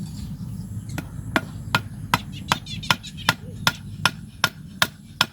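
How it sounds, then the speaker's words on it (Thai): A wooden prop stake is hammered in to support a jujube tree branch: about a dozen sharp, evenly spaced blows land roughly every half second, close and distinct over a steady low background rumble. "ตอกเลยครับ"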